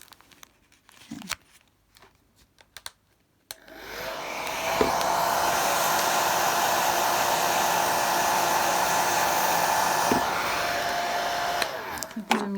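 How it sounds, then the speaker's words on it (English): A hairdryer is aimed at vinyl decals. After a few seconds of quiet handling noises, it switches on to a loud, steady whooshing roar that holds for about eight seconds before cutting off. "as soon as you put the hairdryer on, it blows it back over that anyway."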